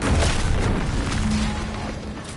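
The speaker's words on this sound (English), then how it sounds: "What's that? An explosion?" A deep, rumbling boom from an explosion in The Outer Worlds 2 rolls out broadly and slowly fades, heavy and close with no voices.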